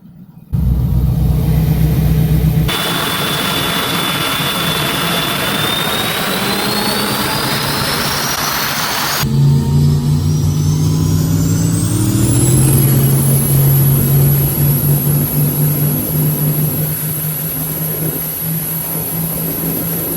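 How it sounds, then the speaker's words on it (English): A car fitted with new turbos on a Coyote engine drives hard, a loud, steady roar with a rising turbo whine and spool, shifting partway through and then building again, close and continuous with no talk. "We got the new turbos on"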